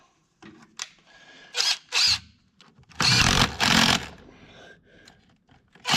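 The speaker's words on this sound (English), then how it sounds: "This driver doesn't over tighten them, but you can strip them." A power driver tightens bolts into aluminum during transmission and final drive service on a Caterpillar D8K, whirring in several short, loud bursts with clicks and brief pauses between them.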